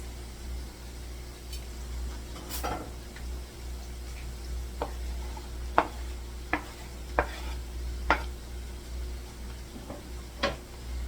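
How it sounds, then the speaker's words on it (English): Onions added to potato home fries frying in a pan: a low background sizzle broken by a series of sharp spatula taps and scrapes at irregular intervals, nearby, no talk. "I'm going to go ahead and add my onions"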